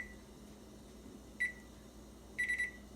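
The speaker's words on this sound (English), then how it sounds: "the timer just went off" A kitchen timer beeps while chocolate chip cookies bake: one short tone, a single beep, then a quick triple burst, sharp and electronic against a quiet room with a faint hum.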